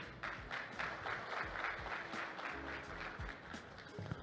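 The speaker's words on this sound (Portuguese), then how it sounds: "Uma salva de palmas." A conference audience at an urban infrastructure and sanitation congress claps in a sustained, moderately loud round of applause that holds steady for several seconds.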